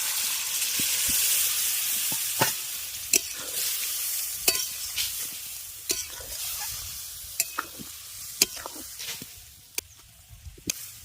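Boiled potatoes and peas stir-fried with spice masala in a pan: a soft sizzle under sharp, irregular scrapes and clacks of a spatula stirring, close and without talking.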